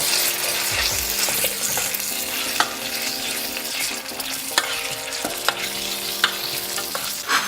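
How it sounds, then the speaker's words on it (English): Tomato puree being stirred into a pasta sauce in a frying pan, with a steady close sizzle throughout and the sharp scrape and clink of a spoon against the pan several times. "Now I'm going to add some tomato puree. Obviously stir that in as well."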